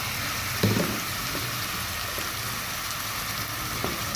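Raw shrimp dropped into a simmering curry in a hot pan give a sudden sizzling burst, then a steady soft hiss of frying.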